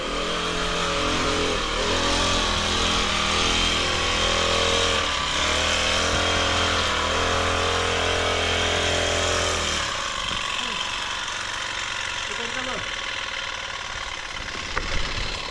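A grass cutter's motor drones steadily and loudly nearby, its buzzing pitch holding for a while before shifting lower and rougher.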